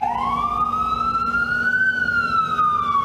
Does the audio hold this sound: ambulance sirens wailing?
yes